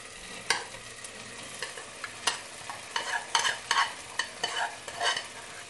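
Mung lentils are tipped into tomatoes frying in a pan for Indian-style spicy dal and stirred, giving quiet, irregular scraping strokes over a soft, steady sizzle close by.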